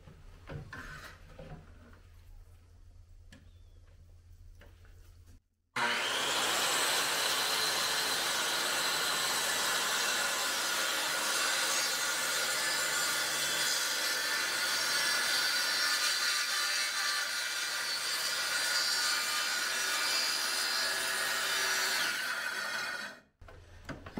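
Power saw set to a 1.5-inch depth cutting grooves into a wooden sailboat mast, quiet handling noises before a loud, sustained rasping whine runs for about seventeen seconds, then cuts off abruptly.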